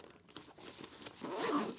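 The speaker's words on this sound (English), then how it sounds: "When you go to unzip it" An AmazonBasics camera sling bag zipper is pulled open with compression straps fastened, a brief ragged scraping rasp that swells near the end of a short, quiet moment.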